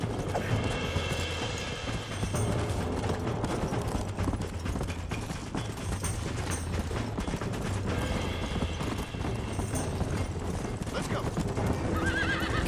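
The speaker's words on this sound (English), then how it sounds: "Look at these horses outrun me." Horses in Red Dead Redemption gallop with continuous rapid hoofbeats and loud neighs in a busy game soundscape, while people talk throughout.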